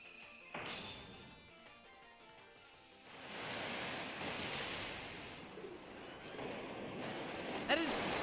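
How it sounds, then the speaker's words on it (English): A Slowpoke's water attack in Pokemon Ultra Sun, a broad rushing, crashing surge like pounding surf that swells and holds for several seconds, with a brief sharp burst near the end. "That is so much water for a Slowpoke's body to create."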